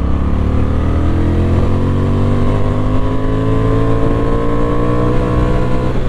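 A Honda Transalp 750 motorcycle engine drones loud and close, its pitch climbing steadily as it revs beyond 6500 rpm, with a continuous roar and no speech.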